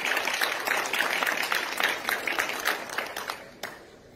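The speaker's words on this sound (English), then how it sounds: "I must say all of you to give a big clap to her for this." Audience at a women's economic forum honoring event claps in a dense burst of applause that gradually thins and fades out.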